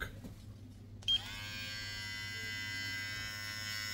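A Slopehill electric hair clipper switches on after a quiet moment and runs at its highest speed with a steady, high-pitched motor buzz.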